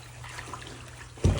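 Hot soapy water in a bathtub sloshes and trickles softly around a dusty van ceiling panel, ending in a brief louder splash as the panel is moved.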